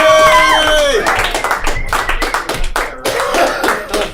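Comedy club audience applauding for comedian John McCombs, a burst of close hand claps with some cheering, starting under a voice and thinning into scattered claps.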